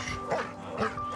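A large, heavy dog at an animal shelter makes short whimpering, yipping vocal sounds in two brief bursts over a steady background hum.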